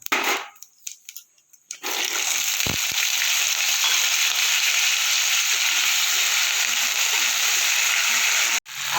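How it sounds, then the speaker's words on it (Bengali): After a quiet moment with a few small clicks, cut potatoes go into hot oil, and a loud, steady, close sizzle starts at once and runs on without a break. "এবার আমি দিয়ে দেবো কেটে রাখা আলু"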